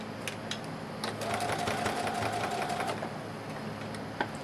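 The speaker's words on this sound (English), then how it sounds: "Lower my presser foot and I begin stitching again." A sewing machine stitching a dress sleeve runs steadily and fairly loud close by, its fast rhythmic needle clatter holding for several seconds with a brief whine in the middle.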